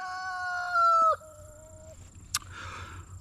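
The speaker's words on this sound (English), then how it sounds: "Pardon me while I strangle that rooster." A rooster crows once, loud and close, with a drawn-out call that breaks off sharply, followed by a quieter tail and a brief click in a farmyard, no talking.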